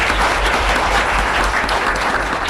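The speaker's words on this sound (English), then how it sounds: "Let's give a round of applause for David." An audience at a lecture on same-sex marriage and the Constitution applauds, a dense, continuous roar of many clapping hands, loud and close throughout.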